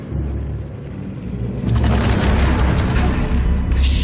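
An explosion in the video game Atomic Heart starts with a low rumble that swells into a loud, sustained booming blast with a rough, crackling roar that continues to the end.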